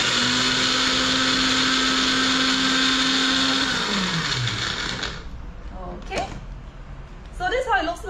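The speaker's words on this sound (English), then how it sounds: "so just put it into the blender." A blender chops cauliflower for fried rice, running with a loud steady whir that drops in pitch and cuts off, followed by quieter kitchen clatter.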